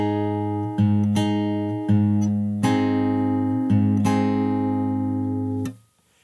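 Fingerstyle guitar plays a bar of a song slowly: low sustained strings hold under about six evenly spaced plucked attacks, then the sound is cut off abruptly near the end.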